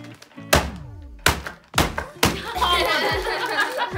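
Several heavy, dull thumps land a moment apart as a rug is beaten, each a loud whack, then a rough, continuous flapping rustle carries on close by.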